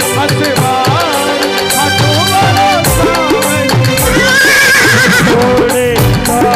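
A horse neighs in a loud, drawn-out whinny set against layered devotional music with rhythmic percussion, the call rising and falling over the dense instrumental bed.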